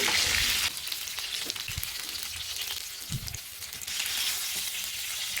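Fish sizzling as it fries in hot oil in a pan for a Bengali telapia fish curry with winter vegetables: a steady crackling hiss, close and fairly loud, swelling and easing in waves with no voices.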